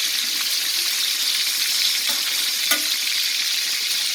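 Kerala-style fish roasting in oil on a tawa gives a loud, constant sizzle and crackle throughout, with a brief sharper spatter near the end and no voices.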